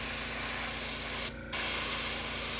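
Steady, loud hiss of a spray paint can held close, applying a light top coat to shoes, one long continuous burst with a brief break before the spraying resumes.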